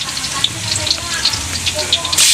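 Meat sizzles steadily in a hot pan, a bright crackling hiss broken by small pops and the scrape of stirring, loud and close.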